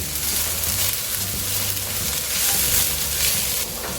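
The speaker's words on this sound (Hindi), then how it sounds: "हमेशा कोई भी चाइनीज़ डिश होती है वो हाई फ्लेम पे कुक होती है, तो हमें इसको भी हाई फ्लेम पे कुक करना है और कंटिन्यूसली हमें इसको सौते करते रहना है" Vegetables for veg Hakka noodles sauté on high flame in hot oil, a loud continuous sizzle with stirring scrapes throughout, no talking.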